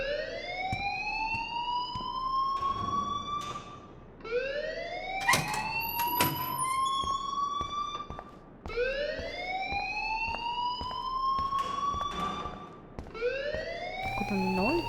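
A rising, wailing alarm siren repeats in long upward sweeps in Life Is Strange, cycling four times with brief gaps, loud and insistent, while a voice speaks briefly partway through.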